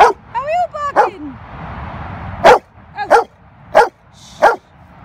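Pit bull barking outdoors in short loud yips and barks, a quick cluster at the start then several single barks spaced about a second apart, with a person making a barking imitation early on.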